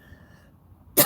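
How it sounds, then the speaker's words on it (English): A single sharp cough bursts out loud and close at the very end, following a stretch of quiet room hum with a faint steady tone. "Excuse me, I got a cough."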